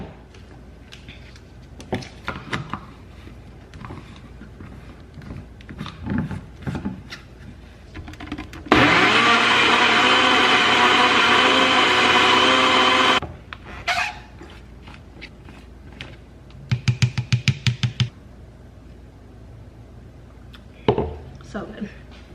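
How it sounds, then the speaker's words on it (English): A countertop blender whirs loudly and steadily for about four seconds, blending apples with almond milk into a drink, between stretches of quieter clattering and handling noises. "I'll just put it in the blender and blend it all up."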